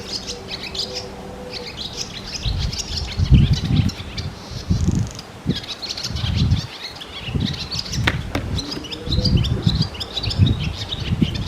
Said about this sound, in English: Here I want you to hear this bird. I don't know what bird it is, but it sings like this every day.